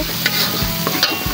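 A spatula scrapes and stirs spice paste sizzling in a pan for soto ayam, giving a few close scraping strokes over a continuous loud frying hiss.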